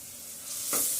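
Onion and coconut paste is stirred into chicken in a hot pan, giving a steady sizzle with a brief scraping swirl of the spoon near the end.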